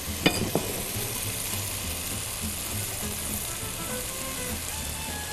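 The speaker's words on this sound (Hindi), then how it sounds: "गोश्त डालेंगे, थोड़ी सी भुनाई" Meat browning in a pot for a Pakistani home-style salan, with a steady sizzle and crackle of frying throughout and a couple of sharp clinks near the start.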